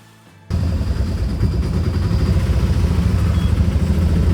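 A small motorized rickshaw (tuk-tuk) engine in Alleppey, Kerala, India kicks in and runs steadily, a loud rattling drone close by with no voices over it.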